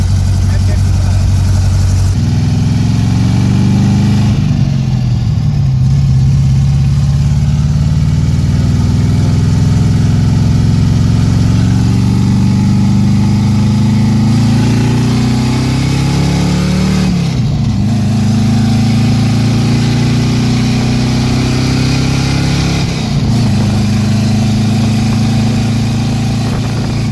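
A second-generation F-body car cruising in fifth gear after a T-5 gearbox swap, its engine giving a loud continuous drone with gentle shifts in pitch throughout and people talking over it inside the cabin.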